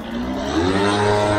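A model airplane engine runs close by at high revs, a loud buzzing drone whose pitch rises and settles over a brief moment.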